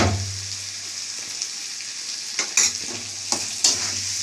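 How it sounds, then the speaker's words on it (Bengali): Spice paste with chili sauce and tomato sauce frying in a pan, a steady close sizzle with a low hum beneath and several sharp scraping stirs near the end, no talk. "আমি মশলাটা আগে ভেজে নিই"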